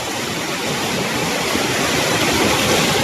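The Khaire waterfall roars in a loud, dense, unbroken rush of water tumbling down into the pool below, steady from start to finish with no voices over it.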